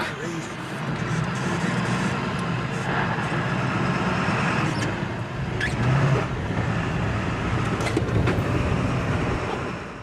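A truck drives away from a moose and her calves, its engine a continuous low rumble with road noise that swells and eases slightly as it moves.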